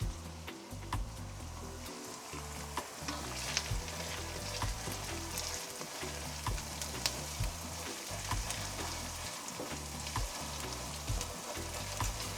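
Steady crackling sizzle of garlic, onion and ginger frying in a hot pan for a lamb curry, continuous and close, with occasional louder pops and stirring scrapes.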